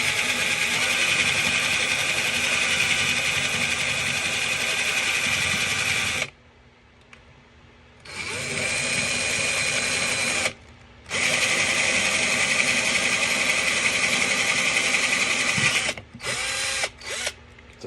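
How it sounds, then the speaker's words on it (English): A power drill with a bit bores out the center hole of a metal cup washer, whirring loudly in long sustained bursts separated by short pauses, then a few brief final spurts near the end. "so I take a drill with a bit."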